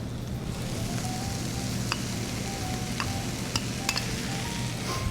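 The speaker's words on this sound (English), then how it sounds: "So we add the rice, kind of mix it up." Wild rice tipped into a hot pan holding a blackberry compote and stirred, giving a steady low sizzle with faint scraping and a few light clicks of a utensil against the pan.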